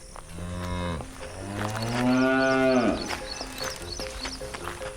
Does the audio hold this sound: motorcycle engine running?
no